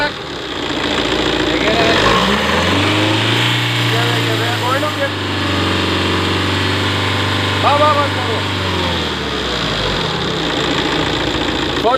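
A car engine on a workshop test while sensors and injectors are checked, rising from idle into a sustained revved drone for several seconds and then dropping back, loud and close, with people talking over it.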